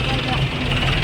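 Tractor engine idling while manure is loaded by a loader, a loud close rumbling drone that holds steady with no pauses for the whole moment.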